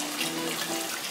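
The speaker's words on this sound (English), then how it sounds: "Now I'm going to add in hot water and allow it to cook." Hot water poured into a cooking pot for Kenyan beef pilau, a dense, steady rushing splash filling the short moment closely and evenly, with no talk over it.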